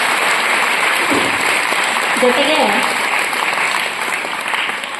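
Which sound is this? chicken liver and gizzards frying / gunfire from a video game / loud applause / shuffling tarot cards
loud applause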